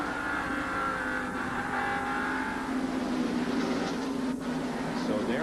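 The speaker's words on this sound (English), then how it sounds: "So there are the cars that are ahead of the leader, and there is the leader, Bill Elliott, in car number 9." NASCAR stock cars racing at the 1989 Valleydale Meats 500, a loud continuous engine roar with shifting pitch as cars pass, heard steadily throughout.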